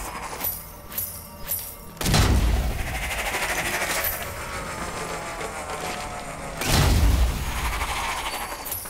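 Gunfire from the video game Strange Brigade, two heavy booming blasts with long rumbling decay separated by steady mid-level game noise, loud and close with no talk.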